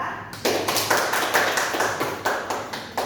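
A classroom group rewarded with applause: steady, brisk hand clapping from several people, loud and close, running on without pause.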